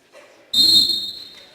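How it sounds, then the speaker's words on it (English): Referee's whistle at the tip-off of a women's college basketball game, one sharp, loud shrill blast that starts suddenly and fades over about a second inside the gym. "There's the whistle."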